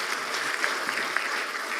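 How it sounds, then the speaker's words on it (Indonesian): Audience applause at a campus panel event at IPB, a steady wash of clapping from a crowd, moderately loud and continuous with no talk over it. "Tepuk tangan dulu dong."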